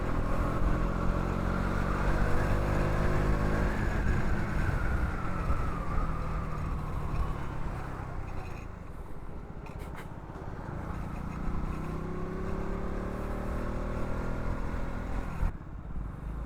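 A motorcycle riding at night on a forest road, passing a Swift car: steady engine drone with shifting pitch as it overtakes, loud and continuous throughout with road and wind noise.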